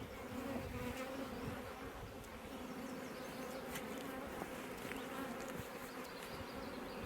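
Honey bees in an open hive make a dense, continuous buzzing hum close by, steady throughout with no voices.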